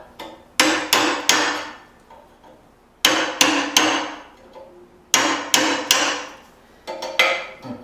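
A hammer strikes hot metal while a tomahawk is forge welded, falling in quick bursts of three or four ringing blows with short pauses between them; close and loud, with no talking.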